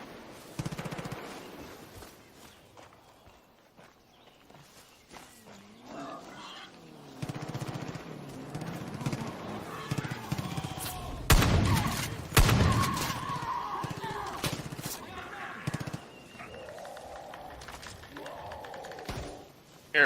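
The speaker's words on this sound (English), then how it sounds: "Well, they're shooting at a boar." Gunfire at a boar in a hunting video game: bursts of loud shots and rapid volleys, strongest mid-clip, mixed with other game noises and occasional voices.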